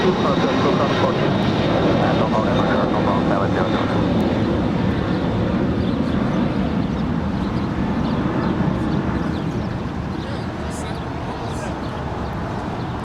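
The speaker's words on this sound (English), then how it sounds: "That was SF Airlines Flight 7002 departing to Anchorage." An SF Airlines jet departs LAX bound for Anchorage, a strong engine roar that stays loud before easing slightly toward the end.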